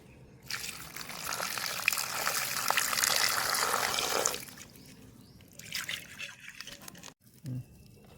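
Vegetables for a bitter gourd theeyal, including green chillies, rinsed under running water, a close trickling splash for several seconds, then quieter intermittent dribbles and a small clunk.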